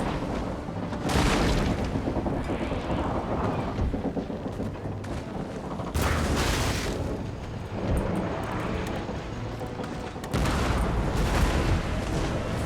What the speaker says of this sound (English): Cannons are still firing at each other as well.